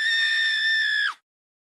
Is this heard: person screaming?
yes